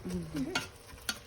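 Meat for chili cooks in a pan, with a soft sizzle broken by a couple of sharp stirring scrapes, close by, while a voice murmurs briefly at the start.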